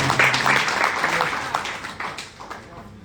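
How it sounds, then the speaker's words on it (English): An audience at a real estate preaching event breaks into applause for a building's designers. The clapping is loud at first, mixed with some crowd voices, then thins and fades toward the end. "Please clap for the people that designed it."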